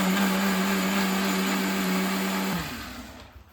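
A kitchen mixer grinder blending ragi dosa batter makes a loud, steady motor whir that cuts off partway through and winds down to near silence.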